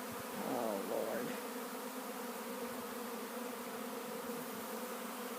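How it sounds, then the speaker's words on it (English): A swarm of bees buzzing inside a garage, giving a steady, dense drone that stays level throughout, with a closer pass briefly standing out near the start. "And I got bees that moved in."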